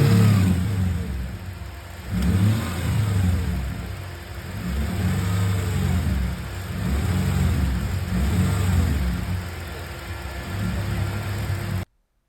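A Mercedes CLK55 engine revs repeatedly in a garage, the pitch climbing and falling in several rising and falling sweeps over a steady idle, loud and close with no talking.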